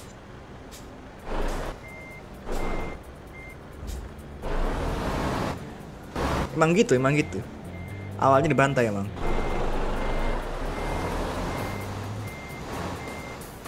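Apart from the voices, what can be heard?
truck reversing beeps while parking, from a truck-driving video game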